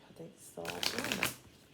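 Tarot cards from an Inquire Within deck riffle in a quick, close shuffle, a soft rustle that rises into a brighter flutter of card edges and then fades.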